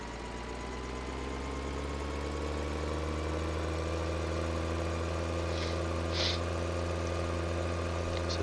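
A tractor engine idles in Farming Simulator 13, a steady low rumble with a sustained hum that holds evenly and close throughout, with no talking.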